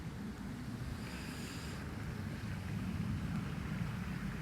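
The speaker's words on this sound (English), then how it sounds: "It's just so windy and gusty." Gusty wind at an outdoor fishing venue buffets the microphone in a steady, loud, low rumble with no let-up.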